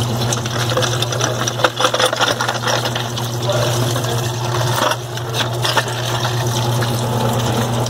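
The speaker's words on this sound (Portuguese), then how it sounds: "Só enxaguar e bater um ar agora." Water rinsing through a Solex 34 mm carburetor from a Variant, followed by bursts of compressed air, a steady hum under irregular gushing and hissing blasts, close by.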